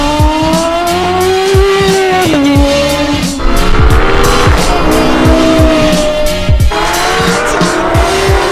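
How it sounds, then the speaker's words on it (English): A new Porsche GT3 laps the Anglesey circuit, its loud close engine rising in pitch through the gears with sharp shifts and repeated tyre squeals in corners, and no talking. "we're gonna take you guys along for the very first drive at Anglesey in the new GT3"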